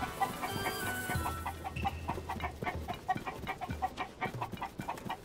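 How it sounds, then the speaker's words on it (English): Cucco chickens in Zelda: Tears of the Kingdom cluck repeatedly, a run of short rhythmic game-style clucks at moderate volume with no talk over them. "God, the chickens really are nesting far away."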